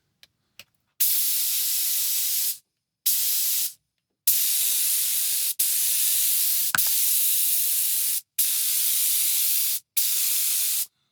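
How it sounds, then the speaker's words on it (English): Spray adhesive misted from an aerosol can onto Alcantara fabric pinned to a workbench: a series of about seven loud, close hissing bursts of one to two seconds each, separated by short silences, with no talking. "So I've just given the fabric a light spray."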